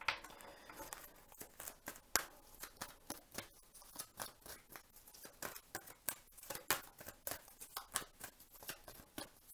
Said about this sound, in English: Terrible shuffling.